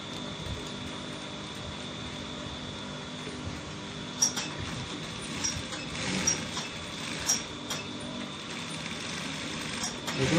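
A sewing machine stitches a collar onto a shirt neckline, a steady mechanical whir with clicking bursts, close by, under a background hum.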